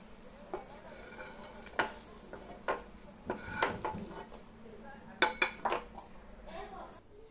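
Fried garlic and red chili are tipped into tomatoes for a spicy tomato chutney, with a metal spoon scraping and clinking against the pan in irregular bursts over a faint sizzle.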